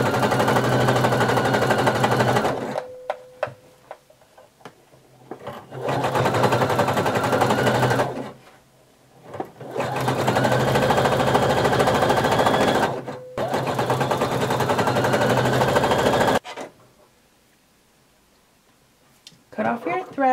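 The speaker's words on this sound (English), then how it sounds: "we're going to sew a neat zigzag stitch all the way around, folding under the elastic as you get to it" A sewing machine zigzag-stitches around a swimsuit leg opening, folding elastic under as it goes, in several loud bursts of steady whirring separated by short pauses, with a quiet stretch near the end.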